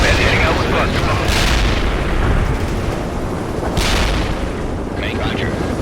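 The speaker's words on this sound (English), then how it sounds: "Wilco, Iceman heading out with cluster bombs." Cluster bombs bursting in a World in Conflict air strike, a dense, loud rumble of overlapping explosions with two sharper blasts standing out, and radio-style voice chatter running underneath.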